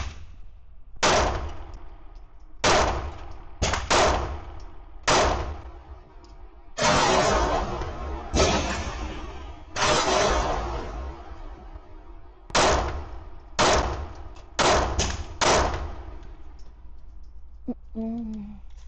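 A Sig P211 GTO pistol fired at a range: a series of loud, sharp shots, some spaced and some in quick pairs and rapid strings, each with a short ringing decay.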